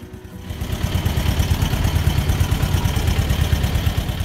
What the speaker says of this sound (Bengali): আমাদের ট্রলার আর সামনে যাবে না, তাই এখান থেকে ঘুরাচ্ছে